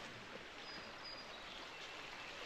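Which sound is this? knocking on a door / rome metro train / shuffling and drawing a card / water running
water running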